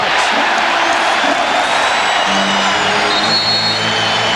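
A basketball arena crowd at a 1991-92 NBA regular season game between the Knicks and opponents, a broad roar of cheering and noise that holds loud and steady, with some tonal sounds rising near the end.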